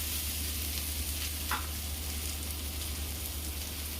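Okra frying in a pan, a steady soft sizzle with a low hiss throughout, close and even, and a brief louder crackle partway through.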